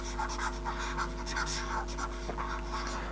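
Dry scrubbing and scratching of an eraser wiped repeatedly across a writing board, a steady rhythm of short rubbing strokes close by, with no talking.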